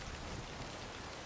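Rain falls in the Way of the Hunter 2 hunting game as a steady, dense hiss of drops, filling the scene evenly with no voices.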